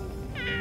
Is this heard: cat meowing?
yes